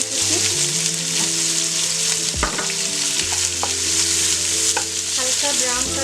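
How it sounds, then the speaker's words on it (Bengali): Chopped onion and garlic frying in a pan for a koi fish curry, a continuous close sizzle with occasional scraping and clinks of a spoon stirring. "পেঁয়াজ রসুন হালকা ভেজে নিয়েছি"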